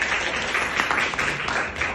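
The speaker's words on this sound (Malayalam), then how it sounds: "അംഗീകരിക്കെങ്കിലും ഒന്ന് ക്ലാപ്പ് ചെയ്യാൻ." Audience applause in a seminar hall, a brief, moderately loud patter of many hands clapping steadily for about two seconds, with no talk over it.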